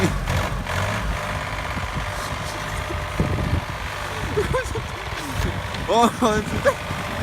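A tractor engine runs steadily at close range as a low, continuous rumble throughout, with excited voices talking and shouting over it.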